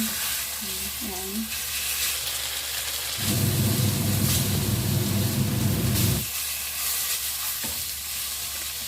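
Honey glazed chicken frying in a pan, a steady sizzle that swells into a loud, dense hiss for a few seconds before settling back down, close and alone.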